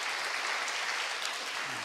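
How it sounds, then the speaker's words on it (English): A forum audience claps steadily for a speaker's introduction, a dense, continuous wash of applause that holds at an even level throughout. "Please give her big applause, please."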